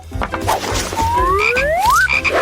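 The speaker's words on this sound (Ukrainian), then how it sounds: "А тепер покладемо жабу всередину." A frog croaks in an animated cooking-challenge scene with kitchen bustle beneath, a short burst of croaks and rising whistle-like squeaks layered over a steady background for about two seconds.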